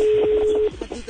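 A phone call is placed on a radio programme: a steady single telephone tone sounds for about half a second, then cuts off, leaving faint background voices.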